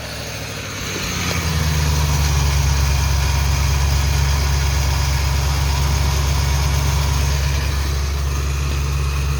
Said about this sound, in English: Well, it's running again.